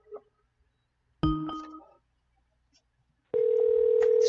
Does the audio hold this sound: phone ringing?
yes